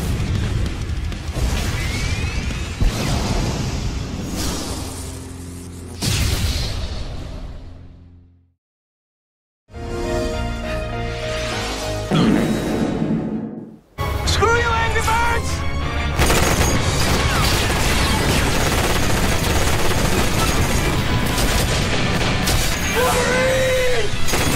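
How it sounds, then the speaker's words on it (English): Missiles strike and destroy the Wyvern boss in a Sonic video game, a run of loud crashing explosions and booms with a brief silence, then dense bursts layered over game music and effects. "Sonic opening Wyvern's mouth, and the rest of the missiles go straight inside of him"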